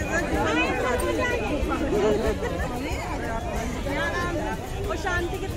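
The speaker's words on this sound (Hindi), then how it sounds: "भीड़ है, बहुत है भीड़ तो" Crowd bustle at the Govardhan hill pilgrimage site: a dense, continuous babble of many overlapping voices and chatter, steady and close throughout.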